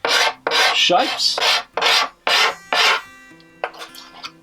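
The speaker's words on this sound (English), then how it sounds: "There is a small curved gooseneck scraper, and it does a beautiful little fine job of creating" A small curved gooseneck cabinet scraper drawn over wood gives close, loud rasping strokes in an uneven rhythm of about seven, each a broad hiss, before a quieter tail with a brief word spoken.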